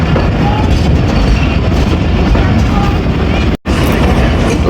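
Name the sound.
Baba Fareed Express train approaching Basirpur railway station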